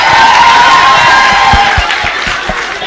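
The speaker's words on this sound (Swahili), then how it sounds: "Haya, pigie yeye makofi." A crowd at an ODM youth political rally for Sifuna cheers and whoops loudly and steadily, with a few sharp claps or thumps standing out near the end.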